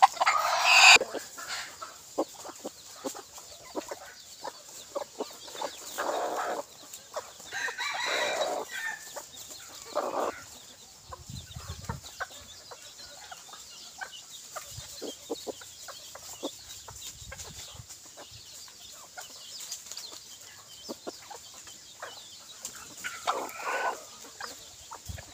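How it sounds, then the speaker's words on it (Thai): Chickens, including an 11-month-old bird, cluck steadily nearby, and a rooster crows loudly at the start, with further scattered calls and scratchy movement throughout the long stretch. "ไก่อายุก็ประมาณน้องไก่อายุอยู่11เดือนครับผม"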